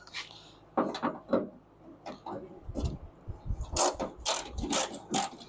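Nuts and washers come off a 1967 Firebird/Camaro door, scattered small metallic clicks, taps and brief ratcheting rattles close by, with a short burst of clustered clinks near the end.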